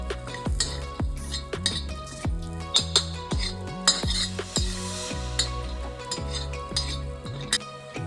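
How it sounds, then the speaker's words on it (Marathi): Grated coconut dry-roasting in a pan until golden brown, with a spoon repeatedly scraping and clinking against the metal in a steady stirring rhythm, close and fairly quiet. "खोबऱ्यालाही छान तांबूस रंग येईपर्यंत भाजून घेऊ।"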